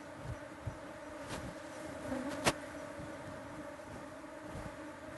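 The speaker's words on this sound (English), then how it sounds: "make sure that you brush off the bees before leaving the apiary" Bees buzz at a beekeeping apiary in Kenya, making a faint, steady drone with brief flyby swells and a couple of sharp clicks, heard from close range in an outdoor setting.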